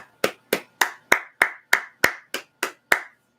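Eleven sharp hand claps in a steady, even rhythm, close and crisp, with nothing else in the background.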